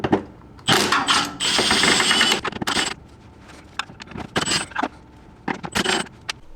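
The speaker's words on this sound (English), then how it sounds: "So we're going to remove all these nuts," A ratchet works loose the small nuts around the shifter of a Subaru WRX STI, producing close, loud runs of rapid clicking in bursts of varying length, with short pauses and metallic handling noises between them.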